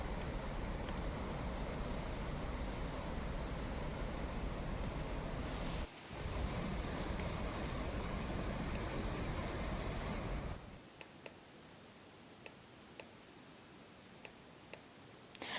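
Heavy floodwater rushes through the Jurala Project's open gates, making a loud, continuous roar that cuts out briefly, then drops to a quieter hiss with faint scattered ticks toward the end.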